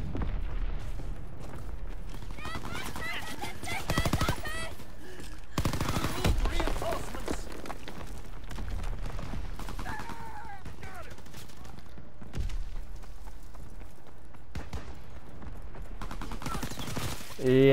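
Bullets fired in a multiplayer shooter game: rapid bursts of automatic gunfire and scattered single shots across the whole stretch, mixed with battlefield noise and frequent talking over it.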